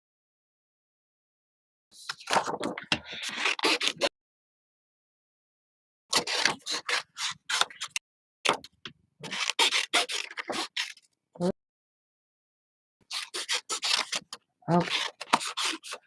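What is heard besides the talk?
scissors cutting out paper pieces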